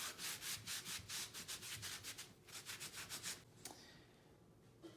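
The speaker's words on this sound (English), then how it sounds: "I'm going to take the rag and I'm going to wipe off the excess glue." A rag rubs in quick, rhythmic back-and-forth strokes to wipe excess glue off clamped wooden boards, a close dry scrubbing that carries on for several seconds before stopping, with a faint knock near the end.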